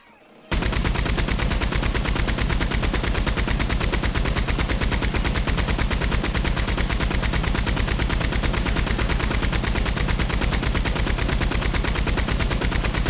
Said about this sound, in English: Shall we shoot this thing just for the fun of it?